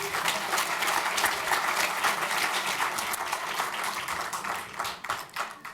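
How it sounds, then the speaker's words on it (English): Guests at an athletics hall of fame banquet applaud in a sustained, crowded round of clapping that holds steady and thins out with a few scattered claps near the end. "So give her a round of applause."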